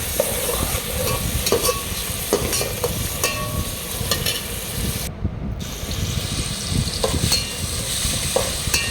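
Ginger garlic paste, coarsely pounded in a mortar, stirred as it fries in ghee and oil: a steady close sizzle with scraping and clinking spoon strokes throughout, no talking.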